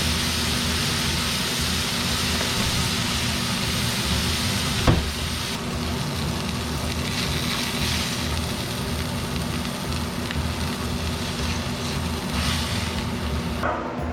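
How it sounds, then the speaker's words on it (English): Buttered burger buns toast in a metal pan, giving a steady, close broadband sizzle that holds evenly throughout with one brief clink partway through and no talking. "We're toasting our buns because toasted buns are always better."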